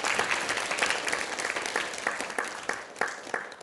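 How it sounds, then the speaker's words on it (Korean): Audience applause fills a workshop hall for local government regulatory-reform officials, a dense steady patter of many hands with sharper individual claps standing out, moderately loud and continuing without speech. "다시 한번 박수 부탁드리겠습니다."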